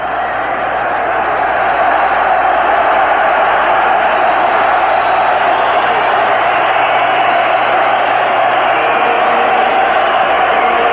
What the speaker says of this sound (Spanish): todo el público lo saluda con un enorme cariño como a su rival